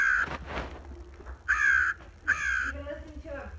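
A raven table centerpiece decoration lets out several harsh electronic caws, a couple of grating bursts separated by pauses and a softer trailing croak, close and clear with faint background noise.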